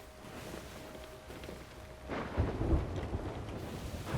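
A thunderstorm at sea in Sea of Thieves: steady rain hiss gives way to a deep rolling rumble of thunder that swells loud and lingers.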